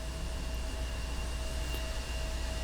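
Jet engines whine and roar steadily at an airport in the X-Plane 11 flight simulator, a constant broadband rush with thin sustained tones, no voices.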